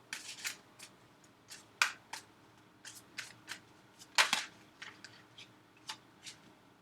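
Tarot cards being shuffled to draw a clarifier card give a series of crisp riffling and snapping bursts at an irregular rhythm, close and clear in a quiet room with no talking.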